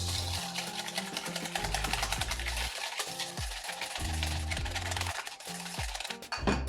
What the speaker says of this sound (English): And whisk this.